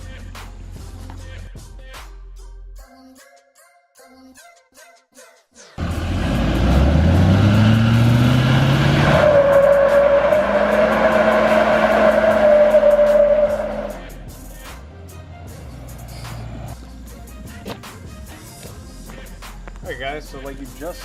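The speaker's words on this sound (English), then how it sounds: "like you just saw, who doesn't like a good burnout?" A car doing a burnout roars loudly for several seconds with a rising engine note and sustained tire screech, set against quieter stretches with background talk before and after.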